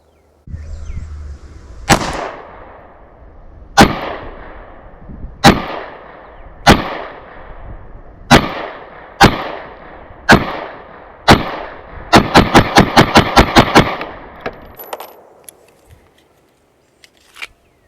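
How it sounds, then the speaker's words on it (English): A Springfield Armory Hellcat Pro 9mm pistol fires a full magazine outdoors: loud, sharp single shots spaced a second or two apart, then a fast rapid string of shots, each with a brief echoing tail, no talking. "let's fire off a magazine of this, shall we?"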